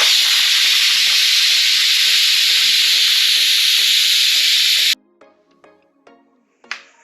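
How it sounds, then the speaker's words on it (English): Steam from a pressure cooker valve set to venting hisses loudly and steadily for about five seconds, then stops abruptly, leaving only faint kitchen clatter and a brief final puff. "So we will turn it on venting so it lets out the steam"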